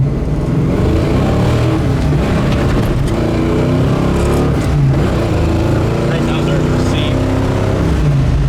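A restomod 1965 Ford Mustang Fastback engine drones loudly and steadily at 70 mph in fourth gear, 3,200 RPM, with a deep rumble and road roar throughout and no pauses.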